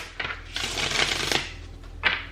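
Tarot cards being shuffled by hand at close range, a dense run of papery riffling and slapping bursts with a sharp snap near the end, no talk.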